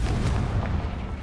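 Confringo explosion spell in Hogwarts Legacy, a loud, close, rumbling blast that fills the moment with dense low roar and crackle, tailing off slightly.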